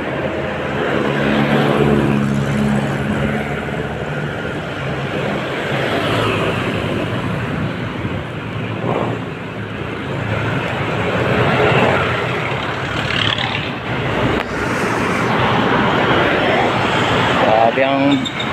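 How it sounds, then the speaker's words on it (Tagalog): Many vehicles pass along a busy road near the Lawton area, with engines rising and fading in overlapping waves beneath a person talking throughout. "ang daming sasakyan talaga dito na dumadaan"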